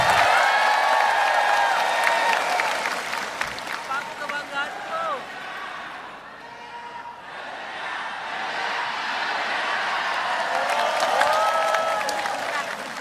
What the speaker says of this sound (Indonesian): Tepuk tangan yang semangat